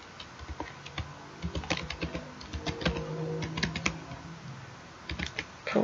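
Rapid, irregular clacking of keys as HTML code is typed on a computer keyboard, close and clear in bursts with short pauses, over a faint background hum.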